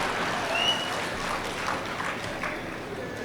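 Audience at a comedy speech at a book festival claps together, a soft, steady patter of many hands that sounds somewhat distant and continues evenly throughout.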